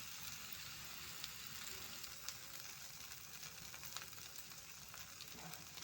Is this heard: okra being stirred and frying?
yes